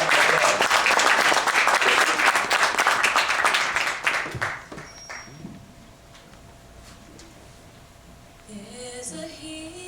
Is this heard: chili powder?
no